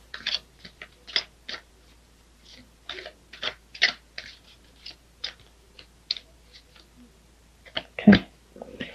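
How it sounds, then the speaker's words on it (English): Tarot cards shuffled by hand during a Pisces love reading, giving soft, irregular riffling and flicking bursts that come and go in short clusters, close and fairly quiet, with no talking. "I was ready to pick a card, but I was told to keep shuffling"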